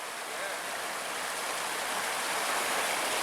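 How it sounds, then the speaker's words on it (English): A waterfall at a swimming hole on a Redington Pass hike gives off a steady broadband rush of falling water, continuous and loud with no pauses. "So loud. The waterfalls."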